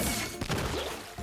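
An Ink Bomb weapon hit lands in the Roblox game Blox Fruits, a short burst of muffled thumping impacts and crackling blasts packed into about a second.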